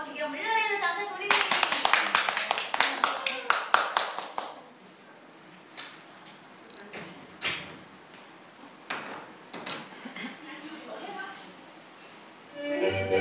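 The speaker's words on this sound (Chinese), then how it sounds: "请给我们热烈的掌声鼓励" Audience clapping in a hall before a children's dance performance at an arts showcase, a dense burst of applause for about three seconds that fades into scattered claps and taps, with voices talking faintly underneath.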